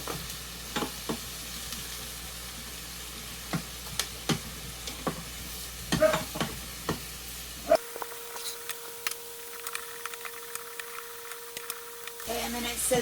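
Eggs sizzling as they hit the hot inner pot of an Instant Pot, a close, steady crackle with scattered clicks and stirring taps, plus a brief electronic tone partway through.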